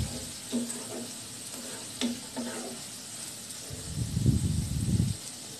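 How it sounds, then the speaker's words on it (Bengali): Dried fish sautés in a pan, a soft continuous sizzle with a few light scrapes, then a louder burst of stirring and frying toward the end. "আমার শুটকি মাছগুলো কষানো হয়ে গেছে।"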